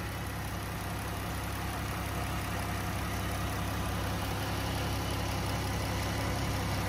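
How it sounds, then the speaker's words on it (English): A 2015 Dodge Grand Caravan SXT engine idles steadily and smoothly for the whole stretch, a constant low hum heard close up under the open hood with no voices. "As you guys can tell, super smooth running engine."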